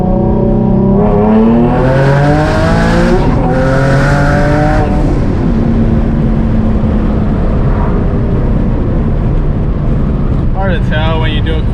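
A single-turbo Nissan 350Z accelerates hard in a pull on a canyon road. The loud, close engine note climbs steeply in pitch, drops at a gear change, then rises again with a strained roar.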